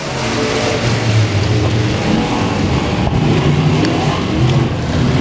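Pro Mod race cars at Boothill Speedway roar loudly around the track in a heat race, engines droning and revving continuously with a low, gritty growl and no talk.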